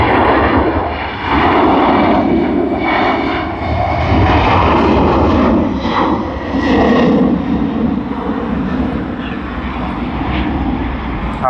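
A Qantas QF25 jet airliner departing Sydney Airport gives a loud, continuous roar of jet engines that rises and falls slightly over the whole stretch, close and dominant.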